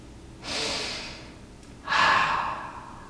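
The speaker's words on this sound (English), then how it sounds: "notice I take a breath after that" A deliberate calming breath, heard as a soft inhale followed by a longer, louder airy exhale, close and breathy with no speech.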